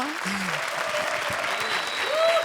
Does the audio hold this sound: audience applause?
yes